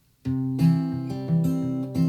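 An acoustic guitar plays an original fingerpicking pattern with an alternating bass, each pluck ringing clearly in a steady, even rhythm, close and alone with no voices.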